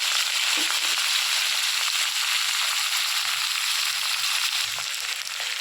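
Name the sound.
chopped tomato added to frying black cumin tempering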